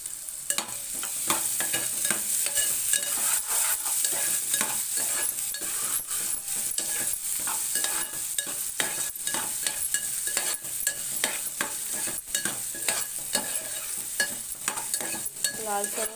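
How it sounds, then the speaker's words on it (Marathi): Onion is stirred and sautéed in a pan for a prawn curry, the spoon scraping in a busy, uneven rhythm over a constant close sizzle of frying. "लालसर होईपर्यंत परतून घ्यायचं।"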